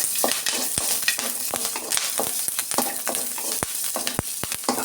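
Ten green chillies fry in a hot pan with a steady crackling sizzle, broken by sharp clinks and scrapes from a spatula stirring them at close range; no one speaks.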